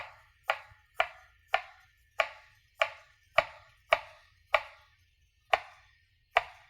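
A kitchen knife chops through an onion on a cutting board in a children's home cooking lesson, about a dozen crisp, sharp knocks spaced at a steady, unhurried rhythm, close and clear against near silence.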